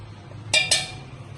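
Boiled drumsticks and potatoes are tipped into a steel mixer jar in a home kitchen, giving two quick bright metallic clinks close by against a quiet background.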